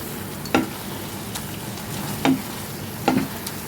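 Spice paste fries in a pan with a low steady sizzle, punctuated by three distinct scraping stirs spaced about a second and a half apart.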